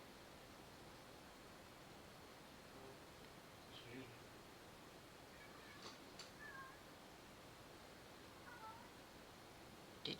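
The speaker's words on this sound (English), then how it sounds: "Did you feed the cats yet? Because now they're crying." Cats crying and meowing from behind a closed door, faint muffled meows scattered across a quiet, hissy room background, with a few brief clicks near the end.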